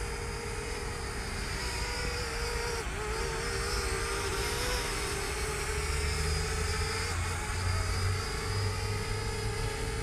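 A JJRC H62 selfie drone hovers outdoors in the wind, its motors giving a steady, loud high-pitched whine with slight pitch wavering as it fights gusts, continuous throughout.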